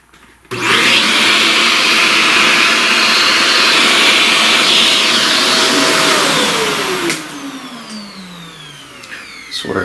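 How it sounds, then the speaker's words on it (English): A vacuum cleaner switches on with a click and runs with a loud, steady whine and airy rush, its pitch then sliding down as it powers off, followed by quieter handling noises. "alright, vacuum."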